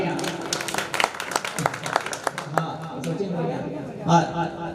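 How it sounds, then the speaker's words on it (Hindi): Audience applause at a Hindi kavi sammelan poetry gathering: scattered, uneven claps from a crowd, mixed with a voice and background chatter. "एक बार जोरदार तालियां।"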